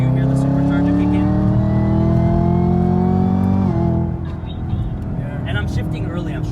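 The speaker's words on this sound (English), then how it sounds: "even in fourth gear, you hear the supercharger kick in." A 2018 Camaro ZL1 accelerating hard in fourth gear as the supercharger kicks in, its loud engine tone climbing steadily for several seconds before dropping at an upshift, with a voice talking over it.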